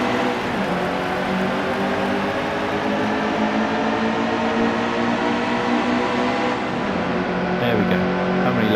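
Stock cars roar around the track in NASCAR Heat 2, a loud, sustained multi-engine drone with shifting pitch as the pack races close together, while a voice talks over it.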